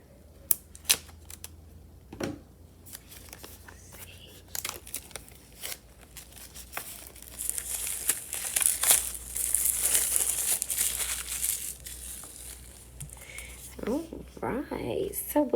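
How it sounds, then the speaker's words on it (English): Plastic wrap being torn and peeled off a sealed tarot card deck, close crinkling and crackling that starts with scattered clicks and builds into sustained rustling, then tapers off. "we have the actual deck here, still in the plastic. So let's open it up."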